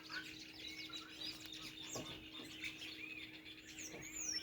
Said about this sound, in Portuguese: Hoje os passarinhos amanheceu tudo animado aqui na Toca da Roça. Escuta o cântico deles, que bacana.